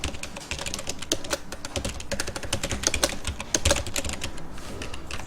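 Rapid typing on a computer keyboard while drafting in AutoCAD, a dense run of close, crisp key clicks with a few heavier strikes, no voices over it.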